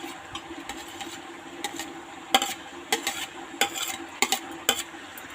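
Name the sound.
stirring goat intestine curry in a pan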